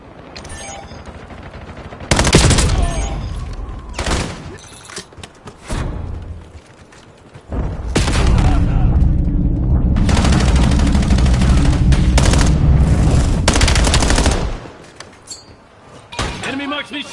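Call of Duty Black Ops 7 beta gunfire comes in loud sustained bursts of automatic fire with a few separate shots between them, mixed with game voice callouts.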